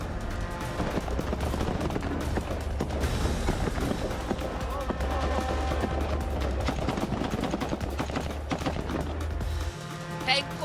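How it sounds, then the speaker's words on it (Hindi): Rapid bursts of gunfire from bunkers crackle and pop continuously over a low rumble in the Hamas–Israel fighting, dense and chaotic, with voices faintly mixed in. "बंकरों से गोलियां गरज रही हैं।"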